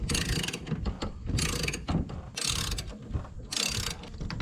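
A hand ratchet clicks in quick repeated bursts, tightening factory strut nuts on a Chevy/GMC Tahoe, Suburban or Yukon, with four close, loud rounds of rapid pawl clicking separated by short pauses.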